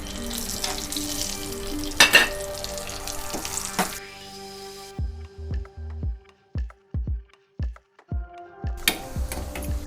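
Almonds sizzle and fry in a pan for carrot halwa, a busy crackling hiss at first that gives way to quieter intermittent pops and scraping stirs.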